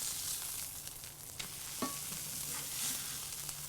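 Burger patty frying and a bun toasting on a griddle for a cheeseburger, a steady soft sizzle with occasional clicks and scrapes, no voices.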